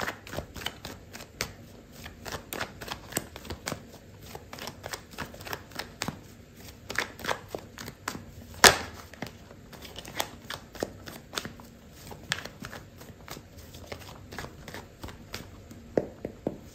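Tarot cards being shuffled by hand in a continuous run of crisp, rapid riffling and flicking. The shuffling goes on at close range with no talk, and one sharper snap comes partway through.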